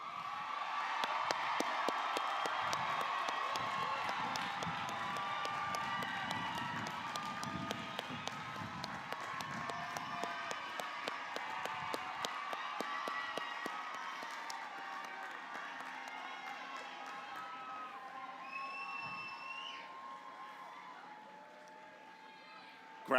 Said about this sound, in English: Graduates, please turn, face the audience, and receive their applause.